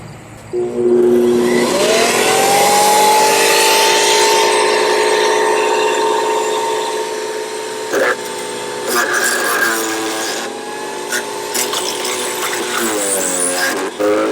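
A Sun Joe CJ602E electric chipper shredder runs with a loud, steady motor whine that wavers and rises as small branches are fed in and shredded, with brief grinding bursts breaking through.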